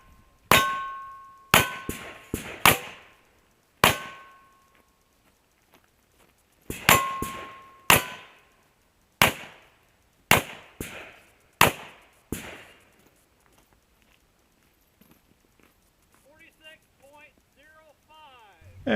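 Cowboy action shooting stage with a lever-action rifle and .38 Special revolvers: a rapid string of sharp gunshots, each followed by a ringing clang of steel targets, coming in quick clusters before fading out as someone talks.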